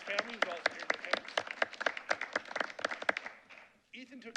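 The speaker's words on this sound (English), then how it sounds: "A round of applause for his family, who's also here in attendance." Scattered applause at a school board meeting for an Eagle Scout's family, sparse distinct claps with speech-like sounds mixed in, fading out before a voice resumes.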